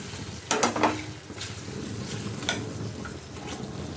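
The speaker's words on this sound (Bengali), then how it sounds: "দিয়ে ভালো করে নাড়িয়ে চাড়িয়ে নিচ্ছি।" Chicken pieces fry with butter and spices in a pan. A steady sizzle carries a few scraping stirs and light clinks of a utensil against the pan.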